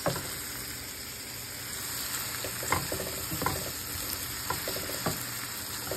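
Garlic frying in a pan, with a steady sizzle under a run of irregular stirring scrapes and taps, close and moderately loud, no speech.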